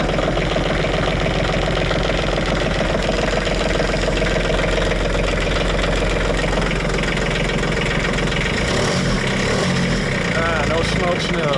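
Kubota tractor diesel engine idling after a cold start on summer diesel fuel, a loud, steady clattering rumble with a knocking pulse that holds throughout, while someone talks over it.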